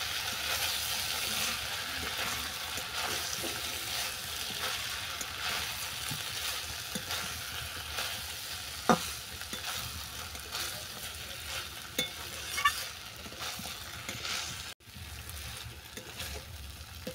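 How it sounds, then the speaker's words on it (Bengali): Chire ghonto of flattened rice with large potatoes and fish head is stirred with ghee in a pan: a faint, soft, continuous frying hiss with a few light scrapes of the spatula, no talking. "ঘিটা ভালো করে মিশিয়ে নেব।"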